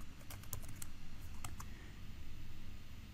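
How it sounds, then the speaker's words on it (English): Fingers typing a command on a computer keyboard in a PowerShell session, a quick run of soft key clicks with a few sharper taps, close by over a low steady room hum. "I'm going into the PowerShell again and then type get S3 bucket."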